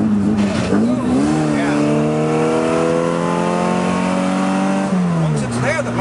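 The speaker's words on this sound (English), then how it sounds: "as we drop our RPMs on the hill, watch what happens when we go into second." A 1967 Mini Cooper S with a worn second-gear synchro, its engine droning loud and steady, pitch rising then dropping as the driver fights to shift on a hill, heard from inside the car with a brief spoken word.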